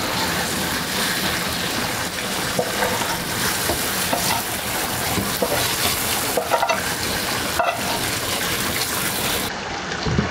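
Spices stirred into a bubbling pot of lamb stew with green beans, a steady close sizzle and frying hiss with scraping stir strokes running throughout, no voices.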